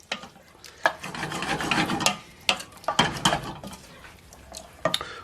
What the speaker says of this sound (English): Now we can mix this up a little bit.